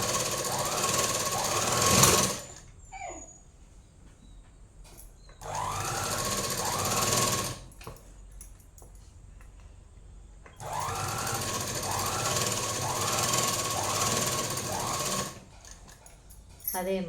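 A sewing machine stitches a chudidhar top in bursts of fast, rattling running separated by quiet pauses and soft handling noises.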